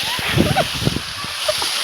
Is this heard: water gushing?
yes